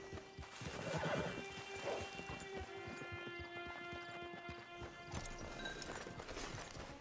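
Horses in Red Dead Redemption 2 Online give a loud whinny early on, with clip-clopping hooves tapping steadily beneath it and a steady tonal hum running through the scene at a camp with a hitching post.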